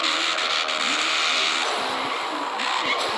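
A golf cart accelerating hard gives a steady, loud motor whine and rush close by, with a slight rise and shift in tone toward the end and no talking.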